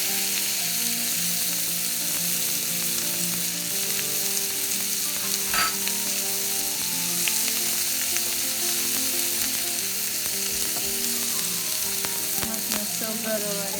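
Ginger and white onion sauteing in a pan give off a constant close sizzle, with the occasional stir or clink of a utensil. No voice is heard.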